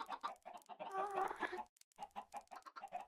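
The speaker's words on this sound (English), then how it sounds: "More chickens! More chickens! Chickens!" Chickens cluck in Minecraft VR, with a flock giving rapid repeated clucks and short squawks, including a louder burst of overlapping calls. They are close and fairly quiet, and no one speaks.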